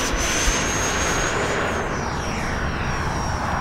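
E-flite Viper 90mm electric ducted-fan model jet, 1400mm span, held at full throttle: a loud, steady high-pitched fan whine over broad rushing roar, with the tone sliding slightly lower as the jet moves off.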